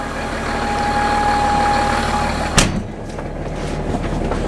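A farm tractor engine runs at a steady idle, a continuous rumbling drone with a sharp clunk partway through, after which the engine keeps running at a slightly lower level.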